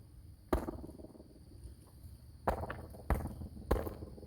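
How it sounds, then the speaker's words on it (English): Feet stomping on the ground beneath a stone arch on a trail, four sharp thuds spaced irregularly, each with a short echoing tail, close and loud over faint background. "I'm just stomping my feet."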